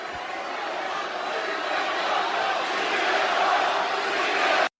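A wrestling arena crowd at a Saudi show featuring CM Punk and John Cena, a loud, dense, continuous roar of chanting and clapping voices filling the space without a break.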